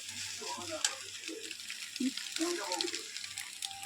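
Food sizzles and fries at a dimly lit street stall where egg bhuna is cooked, a soft crackling hiss with occasional stirring scrapes, while people talk nearby.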